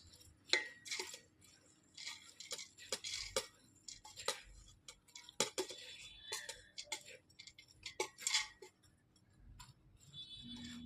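Homemade pickle masala mixed into fenugreek and raw mango, a steady run of close spoon clinks and taps against a pot with soft rustling in between, intermittent and moderately quiet.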